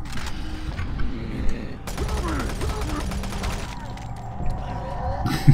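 Gunfire against enemies in Doom 3, a steady stream of rapid shots and mechanical weapon clatter running throughout, with someone talking over the shooting.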